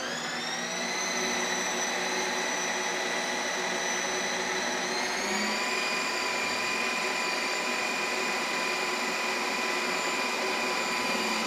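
A Ninja Creami ice cream machine runs steadily with a strong motor whine and shifting tonal hum, rising slightly in pitch partway through, with no talk over it.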